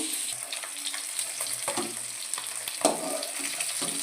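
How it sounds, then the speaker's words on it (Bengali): Katla fish pieces finishing frying in oil in a pan, a close crackling sizzle with scraping and clattering as the fish is turned and lifted out, no talking. "এবারে মাছটা ওদিকে ভাজা হয়ে গেছে, আমি তুলে নেব।"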